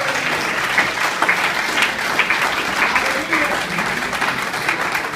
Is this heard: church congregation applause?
yes